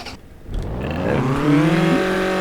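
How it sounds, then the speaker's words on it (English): In the simulator Rigs of Rods, a damaged Honda Accord's engine turns over and revs up, its rising whine climbing steadily and staying loud and close, with no voices. "Forward. Engine on."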